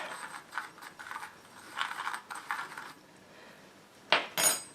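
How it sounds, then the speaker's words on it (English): Rye flour dough for no-knead rolls is stirred in a bowl with a utensil, giving quiet intermittent scrapes and clinks in short bursts, with a couple of louder knocks near the end. "So we'll just stir this up."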